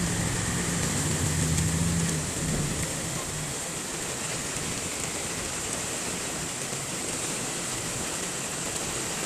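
Floodwater rushes after heavy rain in Gonzaga, a dense continuous broadband wash of flowing water, steady and fairly loud throughout with a low rumble fading early on.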